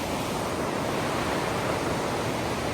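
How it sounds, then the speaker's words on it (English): Rapids on the Housatonic River in Connecticut rush in a steady, loud broadband roar of turbulent water, continuous and unbroken, with no voices. "It's pretty placid up there, and then it starts being rapids down here, and there's rapids all the way down"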